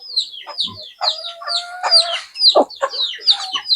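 Free-range native chickens cluck and chatter close by in a lively series of short calls with overlapping voices, sounding alone with no talk.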